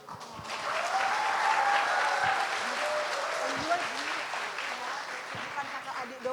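A television talk-show studio audience breaks into sustained applause, a steady wash of many hands that rises quickly and holds, while a person's voice carries over the top.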